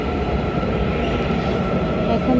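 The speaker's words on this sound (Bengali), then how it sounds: "আমাদের ট্রেন চলে আসছে," A metro train rumbles in to a station platform, a steady low roar under continuous platform noise, with a person talking over it.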